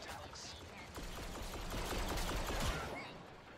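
Rapid blaster fire in Star Wars Battlefront 2, a quick rattling stream of shots blending into a dense, moderately faint barrage with game noise behind it.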